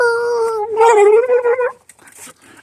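A dog howls loudly nearby in a long wavering cry, then breaks into shorter yelping whines before falling quiet, with faint scattered noises afterward.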